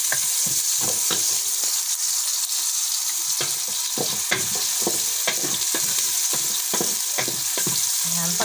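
Onions sauté in a hot pan toward browning, with a steady close sizzle broken by frequent rhythmic scrapes and taps as a spatula stirs them, and no voices.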